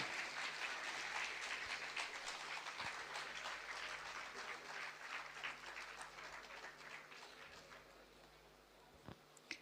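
An audience applauds at a government ceremony welcoming the Chief Minister in Ranchi, producing a dense, sustained patter of clapping that gradually thins and fades toward the end.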